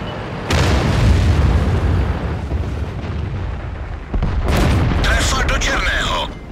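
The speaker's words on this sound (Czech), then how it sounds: "Ztratili jsme cíl. Nepřátelský tank zničen." An enemy tank explodes in a tank combat video game, giving a heavy booming blast with a long rumbling tail, then a sharper burst near the end. A voice speaks over part of it.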